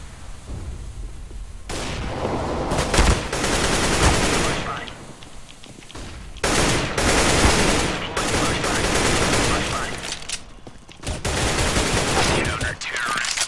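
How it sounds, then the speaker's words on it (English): Bursts of rapid gunfire fill a Counter-Strike: Global Offensive match, loud sustained volleys separated by brief quieter gaps; a flashbang is thrown amid the shooting. "Throwing flashbang."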